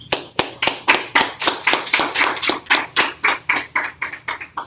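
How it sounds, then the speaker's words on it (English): A small group claps together in a steady, brisk rhythm at a Christian scripture class, sharp hand claps repeating quickly and close by with no talking over them. "Clap it up"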